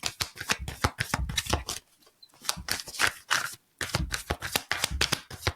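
Tarot cards are shuffled by hand in rapid, crisp riffling bursts, close and loud, with two short pauses between bouts.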